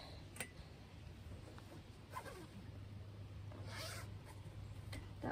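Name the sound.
zipper on a van seat cushion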